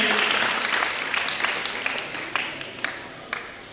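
An audience gives loud, sustained applause welcoming a guest at a school sports event held at a Sai temple, dense clapping that slowly thins out toward the end, with faint voices underneath.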